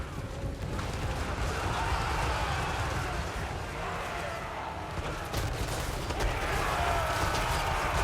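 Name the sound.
hand cannon gunfire in video game Total War: Warhammer 3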